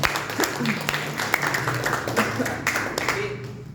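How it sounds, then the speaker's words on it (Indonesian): A church congregation claps hands in a brief burst of uneven, crisp claps, fairly close, with voices murmuring beneath. "Tepuk tangan semua."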